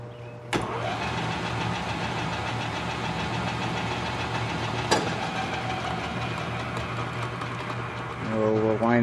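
Hardinge Chucker HC threading lathe running at low speed in a shop, a steady mechanical hum with a couple of sharp clicks as it switches direction and a rising whine at the end.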